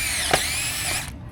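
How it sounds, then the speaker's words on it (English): A power drill whines steadily at high speed while boring pilot holes for screws during a Blue Wave pool fence installation, close and loud, with a brief catch partway through before it spins down. "by drilling pilot holes, it makes the job a little bit easier"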